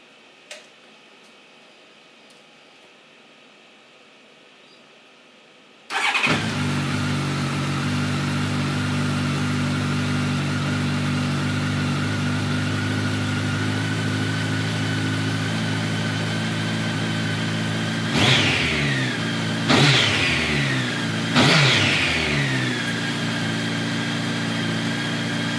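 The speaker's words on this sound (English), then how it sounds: "This is the sound of the stock exhausts." A Honda CBR1100XX motorcycle with stock exhausts starts up after a few seconds of quiet, then idles steadily and close, with three sharp throttle blips revving the engine near the end.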